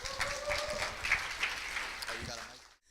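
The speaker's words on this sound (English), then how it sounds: "Big round of applause." Audience clapping at a boot camp event, a steady spread of applause heard somewhat distant and moderately quiet, ending abruptly near the close.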